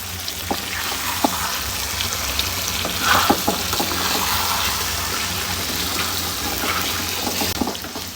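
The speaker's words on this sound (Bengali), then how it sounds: "মাংসগুলো দিয়ে দেবো।" Beef pieces fry and sizzle in a pan for Bengali beef kosha, with steady crackling, occasional stirring scrapes and a brief louder burst midway, no talking.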